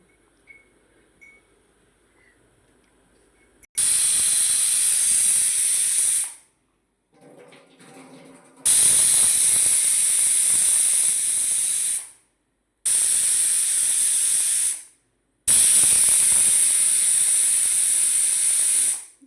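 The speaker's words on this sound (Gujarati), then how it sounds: "હવે આપણો ગેસ થોડી વાર ફૂલ કરી દઈશું અને 3-4 સીટી મારી દઈએ" A pressure cooker cooking bottle gourd and chana dal on a full gas flame lets out four loud, sustained hissing whistles, each lasting a few seconds, separated by short gaps of near silence.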